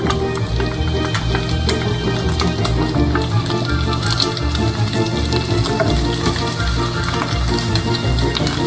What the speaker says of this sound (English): add in our onion